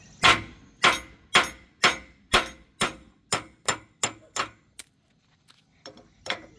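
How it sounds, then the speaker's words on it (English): About ten sharp metal hammer strikes from a weighted hammer on a boat trailer wheel ring out in a steady rhythm, close by, followed by a pause and a few faint, lighter knocks. "You want to hit it fairly straight. Good weighted hammer."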